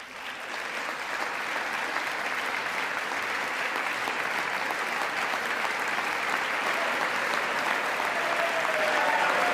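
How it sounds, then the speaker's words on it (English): A large audience applauds during a political speech, steady dense clapping that swells and holds at full strength throughout with no voices on top. "How can Democrats not clap for that?"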